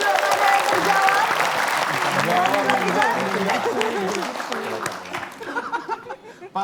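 A studio audience at an Indonesian TV quiz show applauds in a loud, steady wash of clapping, mixed with chuckles and laughter and voices talking over it, before the clapping tapers off near the end.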